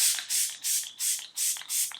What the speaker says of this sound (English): So I'm shaking my spray.